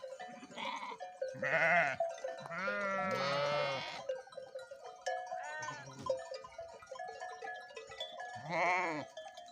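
Several sheep, including a ewe that recently gave birth, bleat loudly and close by in separate calls, with quieter pauses and faint ambient sounds between them.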